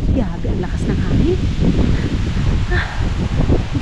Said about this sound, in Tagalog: Yabi, ang lakas ng hangin.